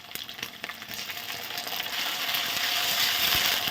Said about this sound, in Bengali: চিংড়ি মাছটা খুব সুন্দর ভাজা ভাজা হয়ে গেছে।